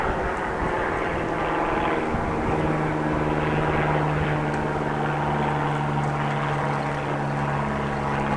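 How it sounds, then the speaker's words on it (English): A steady propeller airplane drones overhead during a bike ride in Groningen, Netherlands, a loud continuous engine roar with a humming tone that holds throughout, no talking. "Plane can be heard flying above."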